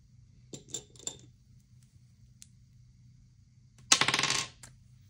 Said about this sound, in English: Roll as many dice as you want and save the amount.